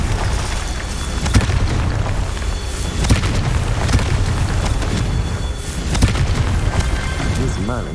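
Fiery spell blasts in the Hogwarts Legacy video game, loud booming bursts around 1.3, 3 and 6 seconds over a dense, continuous roar of combat effects and rumble.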